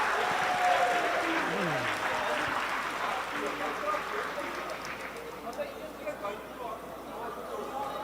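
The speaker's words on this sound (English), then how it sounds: "You can hear the home crowd really getting behind the home team here." A home crowd at an under-18 rugby sevens match in Asia cheers and applauds in a broad, distant wash of noise that slowly fades, with a commentator's voice talking over it.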